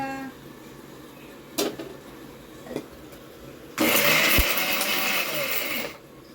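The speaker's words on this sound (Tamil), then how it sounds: "இப்போ வெங்காயம் வெள்ளைப்பூடி எல்லாத்தையும் அரைச்சி வெள்ளைப்பூடு தக்காளி போடுங்க" A blender grinds onion, garlic and tomato in a loud, continuous whir lasting about two seconds, preceded by a couple of sharp knocks and a quiet lull.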